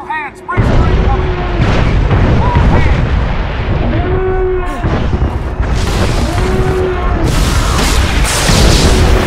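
Heavy explosions and booming artillery-like blasts rock a starship under incoming fire in a Star Wars Jedi Consular game scene, loud and repeated, with an alarm voice and crew speech over them.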